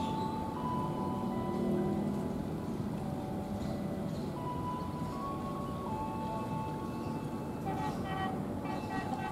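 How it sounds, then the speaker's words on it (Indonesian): An airport train rolls past a railway level crossing at Taman Kota, Indonesia, its horn sounding as faint tonal toots over a distant rumbling wash, heard from afar, with soft voices in the background. "Ini kayaknya kereta bandara nih teman-teman."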